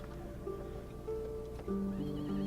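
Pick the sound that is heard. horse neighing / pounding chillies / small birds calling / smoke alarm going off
horse neighing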